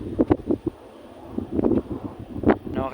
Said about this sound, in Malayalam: നല്ല കാറ്റ് വീശുന്നിട്ട് ഇവിടെ നിൽക്കുമ്പോൾ കാറ്റ് നമ്മളെ തള്ളി കൊണ്ടുവന്നിട്ടേ